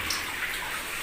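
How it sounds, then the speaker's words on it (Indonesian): Mountain stream water flowing steadily along the floor of a dark cave, a continuous close rushing wash with faint splashes and no voices. "Ini air mengalir dari gunung, mengalir sepanjang gua ini."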